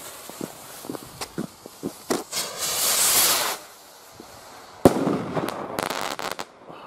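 Discount firework rockets crackle and pop in quick bursts, a long hissing whoosh, then a sharp loud bang followed by scattered crackling, heard from moderate distance.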